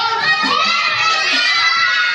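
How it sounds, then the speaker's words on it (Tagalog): A crowd of children shouting together at a Christmas party, a loud sustained cheer of many voices that holds steady for a couple of seconds, close and alone. "Pag sinabi naming sigaw, sisigaw ng Merry Christmas!"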